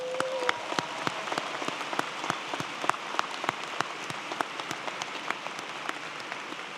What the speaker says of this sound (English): I think we have to give her another round of applause.